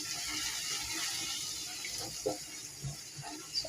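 Water pours into a cooking pan over a low flame while a dish with broth is being made, a steady hissing trickle with a few splashy bursts toward the end, fairly close and with no one talking.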